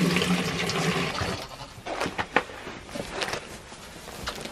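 Warm water is poured into a bucket outdoors in cold weather, giving a few seconds of rushing, splashing flow followed by scattered drips and sloshes; no voices.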